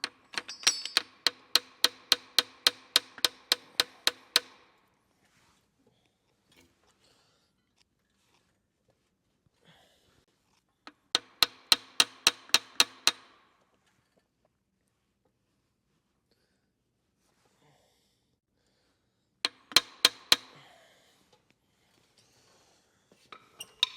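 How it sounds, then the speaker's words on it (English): A hammer drives against a block of wood to loosen rod caps on a barn-find Buick engine, giving rapid runs of sharp taps in three separate bursts with quiet pauses between them. "I'm gonna go get my hammer and block of wood"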